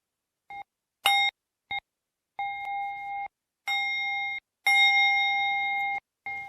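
A ritual Buddhist bell, the bell of feminine energy paired with the vajra, struck several times in a row, each stroke a clear ringing tone that sustains briefly and stops, with the later strikes longer and louder, alone without talk.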